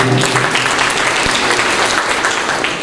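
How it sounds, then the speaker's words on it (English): An audience at a school toppers awards ceremony at a junior and vocational college applauds to welcome a guest, a loud, dense, steady roar of clapping filling the room throughout. "please welcome him with a round of applause"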